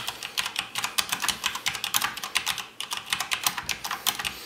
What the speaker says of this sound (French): Au niveau mécanique, on a affaire à des switches MX de type brun, donc on a une frappe assez feutrée